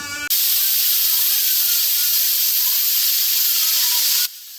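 A pressure cooker cooking beef lets out a loud, sustained steam whistle, a steady broadband hiss that runs nearly the whole time before cutting off abruptly near the end.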